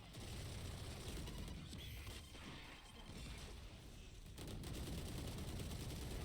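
Rapid automatic gunfire sprays in a Valorant match, dense bursts of shots with mechanical clatter, loud and continuous with a brief dip midway, no voices.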